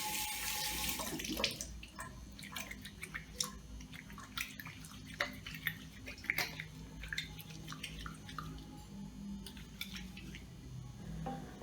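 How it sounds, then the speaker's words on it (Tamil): Hands lather and rinse homemade natural soap under a running tap, water gushing loudly at first, then a steady flow with scattered splashes and drips nearby. "கையையும் நல்லா சுத்தமாக கழுவ முடியுது"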